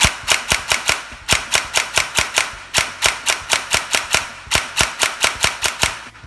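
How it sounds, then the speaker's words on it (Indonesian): A 3DG G34 toy blaster fires rapidly in a steady stream of sharp, loud, close snapping shots, about three per second, continuing without pause and with no voices. "Kalau saya tekan saja sambil tembak, dia boleh bertalu-talu lah."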